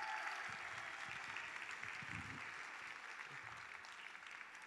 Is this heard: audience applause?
yes